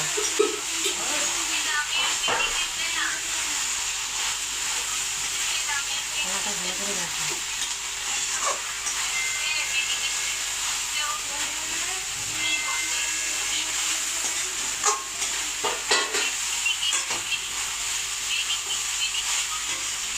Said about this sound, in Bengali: এবার আমি এই সোয়াবিনটা এর মধ্যে দিয়ে নিলাম দিয়ে ভালো করে কষিয়ে নেব